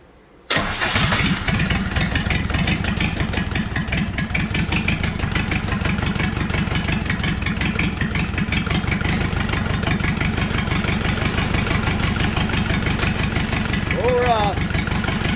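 A Kubota V1702 diesel engine on an engine stand cranks and catches after glow plug heating, then settles into a loud, steady, rapid clatter that runs continuously, close by.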